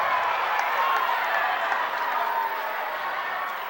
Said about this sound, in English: That really got the crowd rocking on the Big Red side.